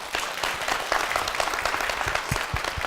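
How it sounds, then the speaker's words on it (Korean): A Korean church audience breaks into warm, dense applause to welcome someone to the front, a continuous crowd of clapping hands close and full. "우리 박수로 맞아주십시오"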